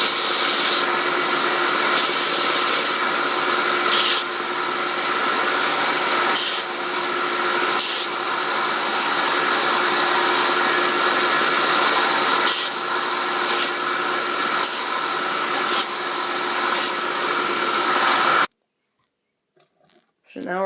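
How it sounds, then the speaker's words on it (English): Loud, continuous whir and grinding hiss of a belt sander running against the edges of a wooden block, steady for most of the stretch before cutting off abruptly into near silence. "now I'll take it to the belt sander and sand around the edges"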